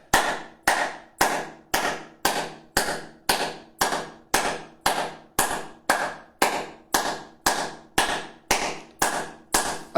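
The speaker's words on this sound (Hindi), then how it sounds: "सो हम एक साथ तालियां बजा करके सारे के सारे पॉइंट को ऑन कर देते हैं।" A group claps hands together in unison as part of an acupressure-style health exercise, producing a steady train of about twenty sharp, evenly spaced claps over ten seconds, loud and close, with no talking.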